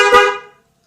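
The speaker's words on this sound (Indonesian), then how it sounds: "Oke, klakson denso mulai." A single Denso car horn honk, loud and close, sounding alone for about half a second before cutting off.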